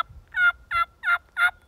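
Four short, raspy turkey yelps made on a mouth call, evenly spaced and fairly close, with faint low rumble between them and no talking.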